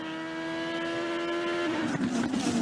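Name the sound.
IndyCar race cars passing on track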